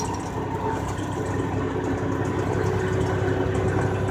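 A car driving through the city of Las Vegas gives a steady low engine hum with road noise inside the cabin, continuous and even throughout, with no one talking.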